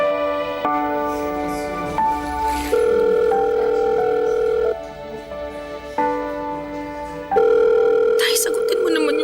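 A phone call rings out unanswered in a Filipino radio-drama love story, its electronic ring tones repeating in steady stepped bursts, loud and close, with a voice briefly cutting in near the end.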